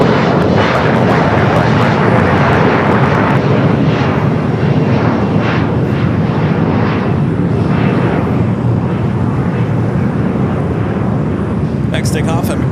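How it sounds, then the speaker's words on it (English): Air Canada Boeing 737 MAX 8 taking off from LAX toward Montreal, a loud, close, continuous jet engine roar filling the whole stretch, with a voice talking over it. "Next takeoff, Air Canada Flight 774 heading to Montreal, Canada, 737 at MAX 8"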